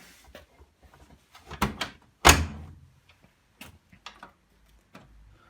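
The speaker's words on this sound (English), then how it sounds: "Close the door, press start." A washing machine door swings shut with one sharp, loud thunk, followed by faint clicks and taps from the controls; the machine has a faulty door interlock.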